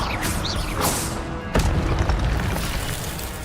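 Incendio fire spell cast in Hogwarts Legacy, a video game, heard as a short whooshing burst followed by a deep boom at about the midpoint, loud against a steady game background.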